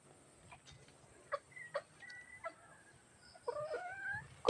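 Several short clucks and bird calls from chickens, scattered and fairly faint, with a louder burst of clucking near the end.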